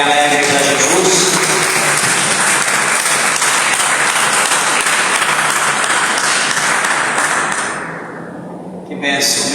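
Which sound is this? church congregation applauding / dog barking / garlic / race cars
church congregation applauding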